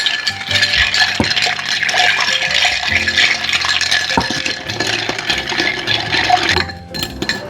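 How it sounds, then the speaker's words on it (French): A bar spoon stirring a popcorn old fashioned cocktail in a mixing glass, ice clinking and rattling steadily against the glass in a quick continuous rhythm, close and clear, without talk. "on mélange tout bien dans le verre à mélange"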